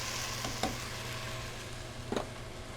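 Garlic and canned diced tomatoes cooking in a pan for crawfish or shrimp étouffée, with a low, steady simmering sizzle under a constant hum and two brief scraping stirs of a spoon, fairly quiet throughout.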